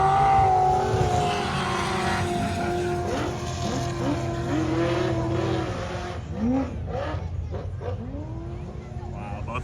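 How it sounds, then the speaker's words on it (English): Offroad race trucks tear around a dirt track at Midwest Dirtfest, engines roaring loud and steady with rising and falling revs as they pass, a continuous motorsport drone filling the whole stretch. "Wow, both those trucks sound so good."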